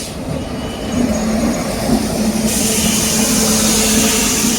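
A train approaching near Muneeswaran Temple in Katpadi, India, rumbles steadily with a low engine hum, growing a bit louder and brighter partway through, no voices.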